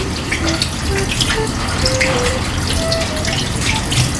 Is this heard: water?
yes